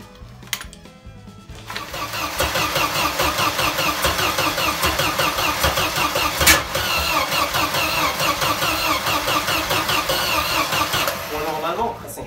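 A small motor running on a butane gas bottle in the Moroccan countryside starts up and settles into a steady, loud mechanical drone that continues without a break. People talk over it.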